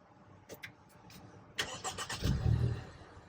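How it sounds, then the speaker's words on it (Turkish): A Range Rover Evoque's engine starting up: a few light clicks, then the starter cranks in quick pulses before the motor catches and settles into a low idle rumble, close and moderately loud. "Arabayı çalıştırdığımız zaman"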